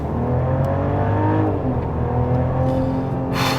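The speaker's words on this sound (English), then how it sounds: "That was about half throttle and it just takes off." A 2024 Mercedes-Benz CLE 450 coupe pulling hard at about half throttle, a loud steady engine note with rising harmonics heard from inside the car, no speech.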